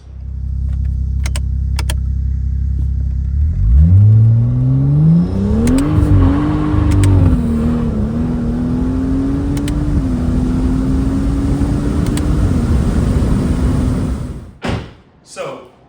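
A car's engine starts and revs up, then pulls away accelerating with a rising, steady engine tone, while someone talks over the driving.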